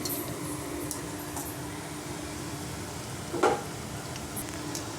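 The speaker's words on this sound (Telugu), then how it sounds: "హైలోనే పెట్టి హైలోనే ఫ్రై చేసుకోవాలి, డీప్ ఫ్రై." Amaranth leaf pakodi deep frying in hot oil on high heat, a steady soft sizzle with a brief louder bubbling burst midway, close and without talk.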